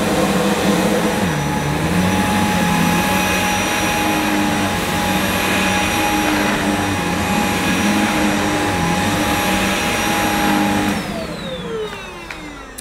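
A Shark Anti Hair Wrap corded stick vacuum runs loud and close, a steady whirring motor roar with a constant whine that holds for most of the stretch, then winds down with a falling pitch at the end.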